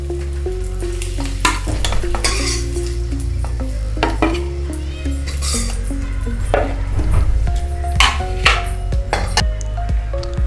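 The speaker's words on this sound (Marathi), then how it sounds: "एक ते दोन मिनटं आपण अंडी फ्राय करून घेऊया" Masala-coated eggs fry loudly in a pan with a dense, continuous sizzle and spatter, punctuated by repeated clattering scrapes of a utensil against the metal, close up and with no voices.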